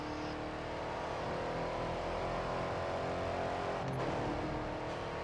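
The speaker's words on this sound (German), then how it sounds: "Hat der Dodge denn so eine krasse Beschleunigung?" A Dodge car in the Grid 2 racing video game accelerates with a sustained, fairly loud engine roar heard alone, the pitch holding steady and swelling briefly near the end.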